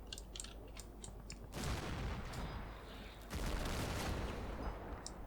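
Distant rifle fire and crackling battle noise in the Combat Mission Shock Force 2 war game, including a 5.56 round zipping overhead, heard as bursts of rushing noise with faint sharp cracks, steady and moderately loud.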